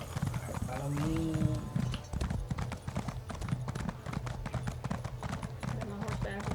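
Horse hooves clip-clop in rapid galloping rhythm in the video game ESO Greymoor, steady repeated thuds across the whole stretch, with a brief whinny early on and people chatting over it.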